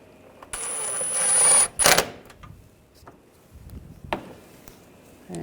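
A ratchet snugs down bolts on the upper grille of a 2009-2010 BMW 535i xDrive, heard up close as a long burst of rapid clicking followed by a sharp rattle and a later brief click, with no talking.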